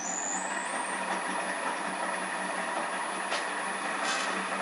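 A restored Rockwell 15-inch drill press runs after being switched on, giving a steady, fairly quiet motor hum with a high whine that rises briefly at the start.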